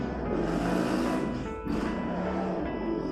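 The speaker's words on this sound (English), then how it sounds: "That is cars or motorcycles outside." A steady broadband rumble of vehicles passing outside, swelling and fading with a brief dip midway, fairly distant and continuous.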